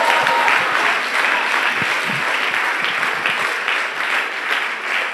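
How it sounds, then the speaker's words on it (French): A church congregation claps together during a worship service. The applause is loud, full and continuous, with many hands blending into a sustained roar and a few heavier beats underneath. "Applaudis le Seigneur"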